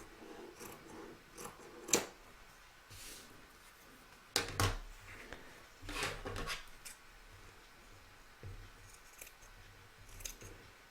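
Fabric scissors trimming the edge of a scalloped baby quilt, close and crisp, with a few separate snips and rustling cuts spread out over several seconds and quiet handling noise between them.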